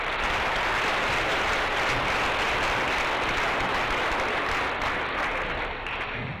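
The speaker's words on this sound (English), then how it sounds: "let's give these guys a round of applause" A graduation ceremony audience applauds in a dense, sustained burst of many hands clapping at once, loud and even throughout before it starts to thin near the end.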